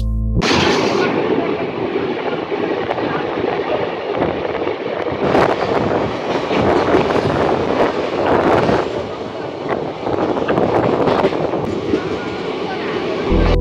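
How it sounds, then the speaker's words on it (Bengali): A passenger train, the Ahmedabad–Kolkata Express, rumbles along the rails in a continuous loud roar, with clattering and rushing noise throughout. "ট্রেন এখন এগিয়ে চলেছে ধনিয়াখালীর দিকে।"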